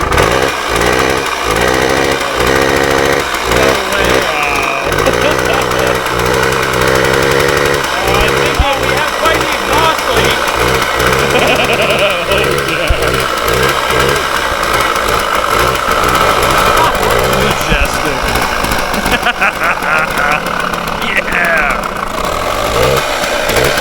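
Budget used adventure motorcycle with an exhaust leak, running loud and close with a ragged, popping putter that rises and falls with throttle blips for the whole stretch.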